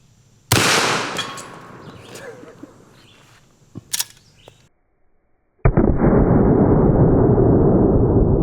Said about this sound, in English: Henry Model X, 44 Magnum lever action rifle.